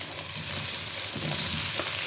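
Potatoes frying in a pan, a continuous close crackling sizzle with faint stirring, steady throughout with no talk.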